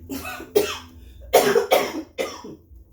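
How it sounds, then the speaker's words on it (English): A series of harsh coughs, about five bursts in quick succession, close and fairly loud. "I'm sorry if I cough."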